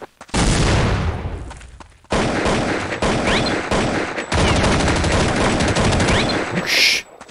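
AK rifle fire in Counter-Strike: Condition Zero on the Dust II map: loud, rapid automatic bursts in several long sprays separated by brief pauses, with no talking.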